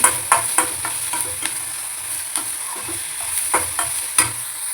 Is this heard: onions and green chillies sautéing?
yes